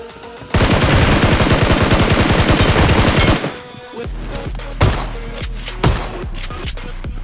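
Rapid close-range gunfire from a shotgun fight in the mobile battle-royale game PUBG Mobile, a dense continuous burst of shots followed by several separate loud blasts spaced about a second apart.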